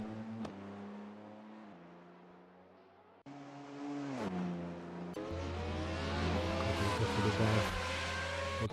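A Porsche race car climbs the Goodwood hillclimb in a sim racing game. The engine is loud and close, its pitch rising through each gear and dropping sharply at the upshifts, then winding up hard toward the end.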